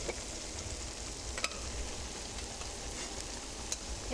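Ground beef frying in a pan for homemade spaghetti, a steady close sizzle and crackle with a few sharp spatter pops and faint stirring scrapes.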